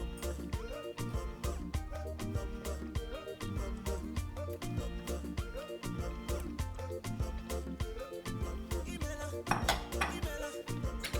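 Washed okazi leaves being added to a pot of Okazi and Ukpo soup, with continuous close clinking and scraping of metal utensils against the pot as the leaves are stirred in.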